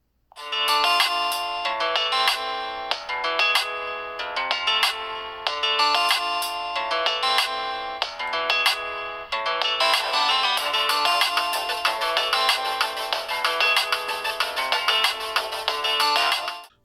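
A melodic phone ringtone plays loudly and continuously from the dual speakers of an XGODY X18 Android phone, a repeating chime-like tune with no voices.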